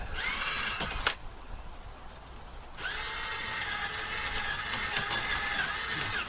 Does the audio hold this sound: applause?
no